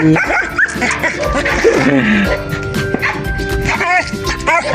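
Several dogs bark and yip excitedly, close by, with whimpers and busy overlapping voices throughout.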